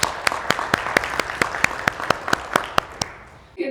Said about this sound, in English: Welcome, round of applause.